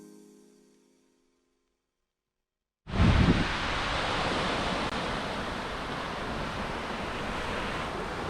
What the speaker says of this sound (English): So we made it to the beach.